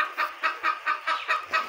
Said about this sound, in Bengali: আমার একটা মুরগি ডিম পাড়ার জন্য এই যে চিল্লাপাল্লা করতেছে